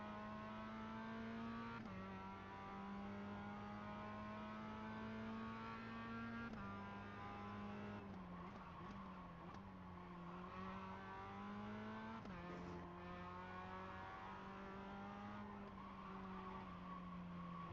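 Racing car in a video game, its engine droning steadily through repeated gear shifts and revs while tires squeal and skid in several bursts, loud and continuous with no talking.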